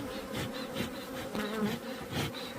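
Honeybees inside a hive on a rainy spring day make a dense, continuous buzzing hum close up, with slight pulsing swells and no voices.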